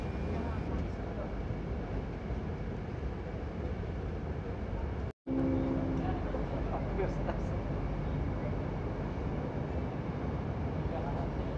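Steady interior rumble of a moving KRL commuter train running from Yogyakarta toward Solo, a constant low hum with one brief dropout partway through.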